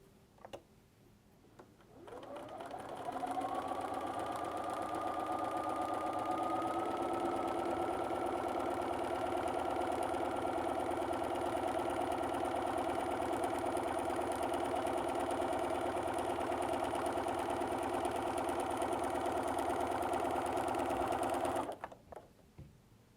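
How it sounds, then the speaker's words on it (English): A sewing machine with a walking foot stitches a long quilting grid line, starting up and then humming steadily for about twenty seconds before stopping, close and even. "stitching with your walking foot from one end to the other"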